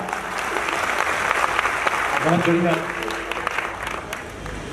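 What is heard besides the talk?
audience applause at a Chhattisgarhi comedy poetry event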